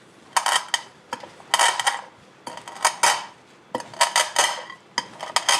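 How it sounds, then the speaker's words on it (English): A sauté pan presses down on black peppercorns to crack them coarsely, making repeated gritty crunching and scraping bursts against the metal, about eight close strokes in a loose rhythm. "So one way of cracking it is with a little sort of saute pan,"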